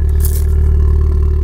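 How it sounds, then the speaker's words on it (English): Ford Fiesta ST exhaust gives a continuous deep, low rumble, loud and close, holding steady throughout without revving or voices. "the exhaust at the moment, it's a rumble, but it's not a growl"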